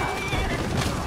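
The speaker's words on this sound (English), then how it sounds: "Oh, I just killed a horse." A horse in the For Honor video game neighs loudly as it is killed, a close, shrill whinny filling the whole short moment with rough mixed combat noise beneath.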